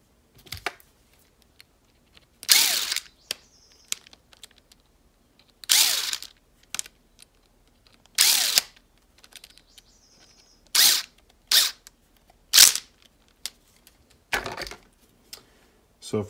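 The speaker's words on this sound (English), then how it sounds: "And then we'll go ahead and secure the 4 back plate screws." Four back plate screws on a nitro RC engine are tightened by hand, giving short bursts of clicky ratcheting spaced a few seconds apart with quiet gaps between them.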